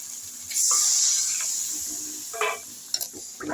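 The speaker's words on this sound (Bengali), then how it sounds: "এই পর্যায়ে আমি এখন জল দেব" Water poured into a pan of sizzling fried masala for a fish curry, a sudden loud hiss that slowly fades, followed by a few stirring clinks, close up.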